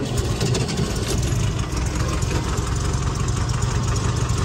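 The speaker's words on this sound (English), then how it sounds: "So we'll go ahead and fire up the car here for you." A Volkswagen 2276 stroker engine in a sandrail show car idles after a cold start, a loud, steady, rough mechanical chug with a continuous knocking texture and no talk.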